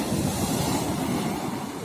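Stormy sea waves crash and churn at night, loud and constant, with wind buffeting the microphone and no voices.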